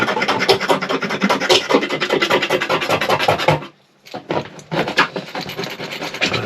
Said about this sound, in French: J'ai acheté un petit grattoir.